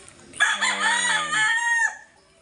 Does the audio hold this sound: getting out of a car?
no